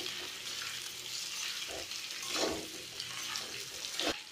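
Potatoes with green chillies and cumin fry in a pan while being stirred, a steady sizzle broken by a few scraping strokes of the spoon, close and fairly loud with no talk.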